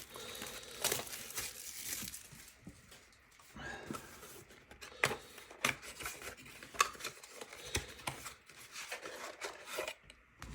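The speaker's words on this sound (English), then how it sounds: "let's open the Dragon Shield sleeves." Dragon Shield matte card sleeve packaging being opened, a close, steady run of crinkling plastic rustles and sharp rubbing crackles, no voice over it.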